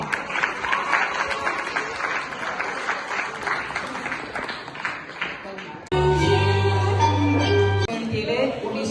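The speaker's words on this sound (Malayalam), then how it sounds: "അപ്പൊ നല്ലൊരു കൈയടി ആവട്ടെ." Audience applause at the inauguration of a church Christmas celebration, a sustained burst of clapping from a crowd that fades before music or amplified sound cuts in abruptly.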